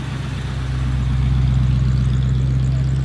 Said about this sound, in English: That's the legendary car from AMG.